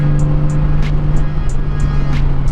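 A vehicle engine on a curvy back road gives a close, steady droning hum with a constant low tone, and faint brief high chirps repeat through it.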